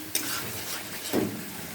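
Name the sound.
spice paste with green chillies being stir-fried in oil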